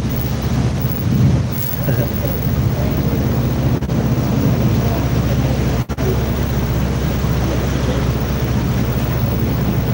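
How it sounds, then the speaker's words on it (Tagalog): Steady rain falls outdoors in the early morning, a dense, constant broadband hiss with a low rumble beneath, loud and unbroken, with a brief voice faintly under it. "It's raining."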